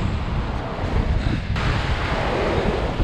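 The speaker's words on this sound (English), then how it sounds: "the waves are a little bit choppy" Choppy winter sea waves wash against the shore of Mersea Island, a continuous loud surging hiss and rumble mixed with heavy wind buffeting the microphone.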